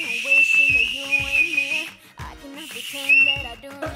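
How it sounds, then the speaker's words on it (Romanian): Toy whistle from a corn puff snack pack, blown in two long shrill bursts with warbling pitch and a short pause between, loud and close, with breathy sounds around it. "Și un fluier. Acum să vedem cum cântă."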